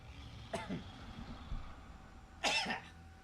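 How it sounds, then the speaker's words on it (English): Two short, dry coughs close by, a small one followed two seconds later by a louder one, in an otherwise quiet room. "I'm about to cough, just give me a sec"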